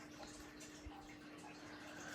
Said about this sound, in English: Besides the waterfall in the background.